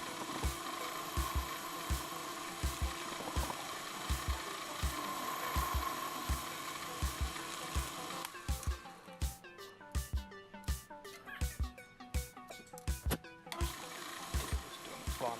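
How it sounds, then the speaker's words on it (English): Workshop lathe turning a Girlock brake calliper part for a race car, a steady machine hum under rhythmic clicking knocks, shifting to busier, denser tapping and scraping of the cut partway through. "Some people call it a lathe. And we'll machine it down to the right size."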